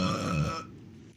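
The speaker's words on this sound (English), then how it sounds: "He could talk and burp at the same time" A single loud, drawn-out burp rumbles close up for about half a second, then fades into quiet.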